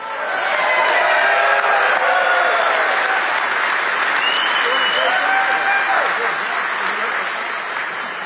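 A large rally crowd at Mack Trucks in Macungie applauds and cheers steadily, a dense sustained wash of clapping with scattered whoops throughout, loud and close, with no clear speech.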